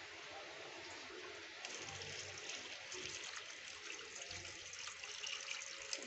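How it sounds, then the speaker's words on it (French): Water pours into a cooking pot of seasoned vegetables, a soft, steady splashing and trickling stream heard alone at a faint level for several seconds. "Et puis mettre de l'eau."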